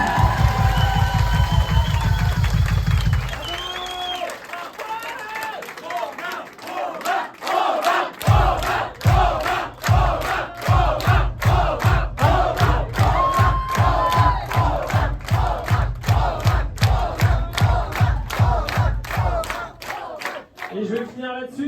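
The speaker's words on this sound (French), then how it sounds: "Donc je pense qu'on peut applaudir." A loud crowd cheering and whooping, then clapping in a steady rhythm for a long stretch, with tonal music underneath.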